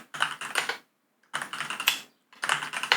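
Rapid clattering keystrokes on a computer keyboard in three quick bursts separated by short silences, close and clear with no voices.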